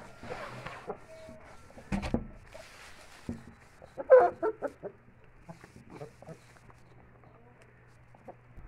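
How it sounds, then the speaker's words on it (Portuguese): Índio Gigante chickens at a breeding farm give sparse, faint clucks and short calls over low background hum, with a louder burst of squawking midway. "É um galo."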